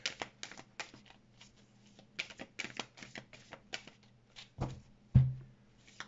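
Tarot cards are shuffled in quick crisp bursts of riffling and flicking, then a couple of cards are laid down with soft close thumps.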